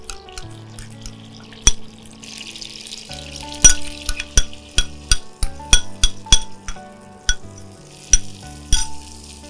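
Marinated spice paste fries with browned onions in a pan for a hilsa fish dish, a low sizzle broken by a run of sharp, close clinks and scrapes from stirring.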